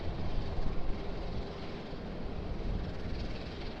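A large Airbus A380 airliner at Sydney Airport produces a steady, broadband jet roar that holds near-constant loudness for the whole stretch, with no voices over it.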